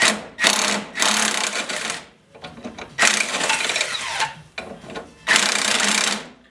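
Wrench working a sway bar link bolt loose under an Audi Allroad, giving repeated bursts of harsh ratcheting and grinding metal with short pauses between them, close and loud.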